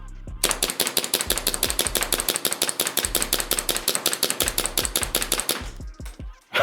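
Rapid, evenly spaced string of sharp shots from a Taran Tactical Combat Master Alpha 2011 gas blowback airsoft pistol, fired continuously for about five seconds as a magazine is emptied, each crack paired with a slide snap, ending in a sudden stop.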